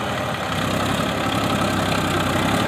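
A Massey Ferguson 241 DI tractor idles steadily, its diesel engine producing a continuous low, knocking rumble close to the microphone, with no one speaking.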